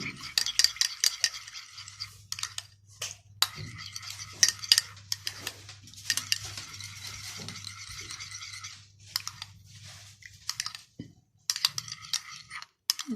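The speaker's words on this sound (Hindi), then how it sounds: "इसको अच्छी तरह मिक्स कर लें।" A spoon stirs homemade cucumber serum in a small bowl, giving a string of light clicks and taps against the bowl that come in bursts and pauses, close and quiet, with a faint low hum underneath.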